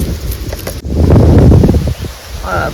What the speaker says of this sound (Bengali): আর এত সুন্দর হাওয়া দিচ্ছে,